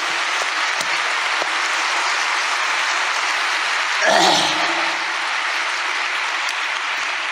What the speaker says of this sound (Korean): 그렇다고 생각하던 박수로 이 시간을 환영합시다.